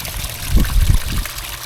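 Water trickles and splashes steadily over rocks in a small garden waterfall, a continuous close hiss with soft gurgling pulses.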